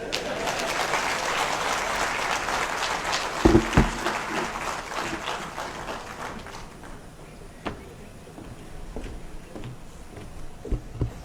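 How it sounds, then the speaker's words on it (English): An audience applauds at the opening of a chief justices' conference, a dense burst of clapping with a few sharp knocks that thins out over the last seconds. "Let us give His Excellency another round of applause."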